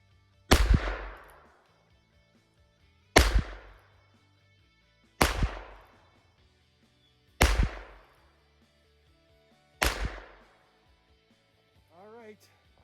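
Five loud gunshots fired at a target with a black dot outdoors at a snowy off-grid cabin, spaced about every two and a half seconds, each with a sharp crack and a decaying echo, followed by a faint voice near the end.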